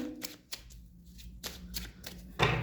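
Tarot cards handled and drawn during a reading, soft shuffling and sliding flicks in a few separate bursts, close by, with a faint hint of a voice.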